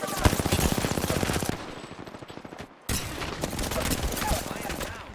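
Rapid automatic gunfire from an Apex Legends match, close and loud, rattling in dense bursts with a brief pause before another volley, while a player talks over the shooting.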